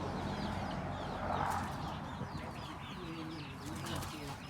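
Low cooing of a spotted dove in Chanthaburi, Thailand, repeated soft calls amid a busy outdoor background with other birds and steady ambient noise.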